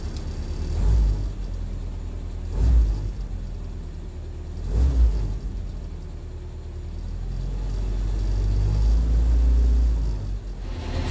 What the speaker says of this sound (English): That's a good fast idle.